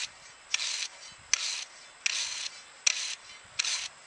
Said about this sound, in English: So I'm knocking off some of this dirt